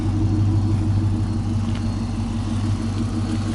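Engine of a 2007 Dodge Charger SRT8, a deep, steady low rumble close by, holding at an even level with only a slight swell, like a lightly revved idle.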